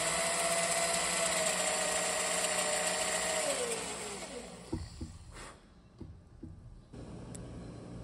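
A Forstner bit bores a pilot hole into a wooden striper popper lure body, a steady whirring drill tone that winds down midway, followed by a few light knocks and taps.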